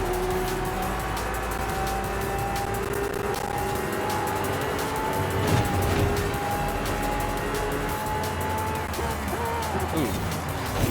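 A Lamborghini Centenario races in Forza Horizon 5, its engine droning loud and continuous with rising and falling pitch as it accelerates and shifts.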